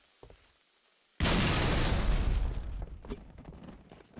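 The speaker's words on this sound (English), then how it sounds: "Let's throw a grenade and see what happens." A grenade goes off in Halo 3 after a short, near-silent pause: a sudden loud explosion that slowly fades into a low, crackling rumble as debris settles.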